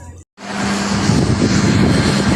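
A helicopter flies over a beach, a loud, close, continuous engine roar that starts abruptly after a brief gap and holds steady to the end.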